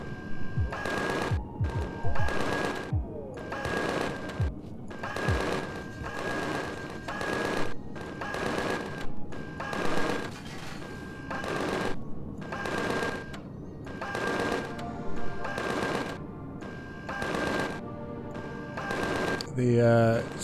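Minigun fire in the space survival game Empyrion: Galactic Survival, heard as repeated loud bursts of rapid gunfire about every second and a half, alternating with short gaps, continuing throughout with a steady tonal hum underneath.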